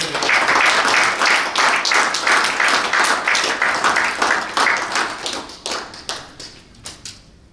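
Audience applause for two snooker players after a grand final, dense clapping that gradually thins out into scattered individual claps toward the end.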